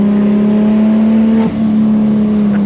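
A modified Nissan Skyline R34 GT-R engine holds a steady, loud drone with a brief dip midway as the revs shift, close and alone with no talk.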